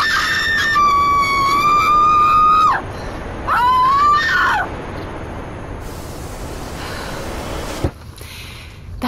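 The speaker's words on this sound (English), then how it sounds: "I'd like to scream." A person lets out two long, loud, close screams with a pause between them. Quieter noise and a brief knock follow.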